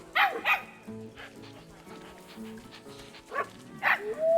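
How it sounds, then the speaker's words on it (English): Puppy barking in the zoo-management game Planet Zoo: a few quick, high yips and barks in short bursts over a soft layered game soundtrack, fairly quiet overall. "Behold the puppy!"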